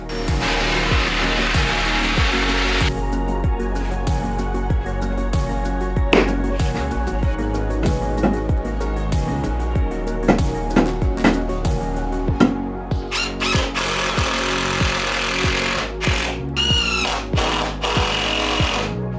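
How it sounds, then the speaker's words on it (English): A power drill runs continuously and loud up close, its motor whining steadily while the bit chatters and grinds through wood. "when I drill through this, it doesn't blow out the back"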